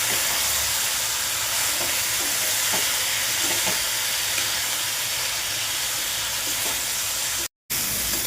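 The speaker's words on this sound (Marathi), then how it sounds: "चांगलं परतून घ्यायचं" Vegetables sauté in a pan with turmeric and salt, giving a steady, close sizzling hiss that runs unbroken apart from a brief cut near the end, with no voices.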